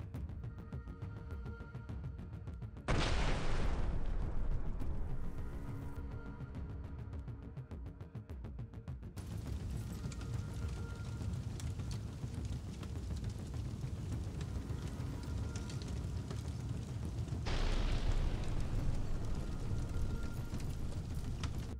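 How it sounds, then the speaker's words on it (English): A powerful bomb blast hits enemy positions, opening with a sudden loud boom that rolls into a rumbling roar, and a second blast breaks out later amid steady noise. "assigned Prince Vandal of Novgorod, who staged a powerful explosion at the positions."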